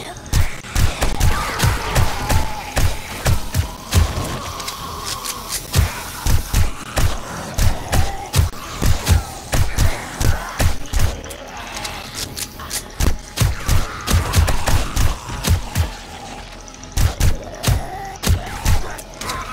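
Gunshots ring out at zombies in the video game 7 Days to Die, a long series of sharp loud thumping reports in irregular quick succession, close and punchy, continuing throughout with brief pauses.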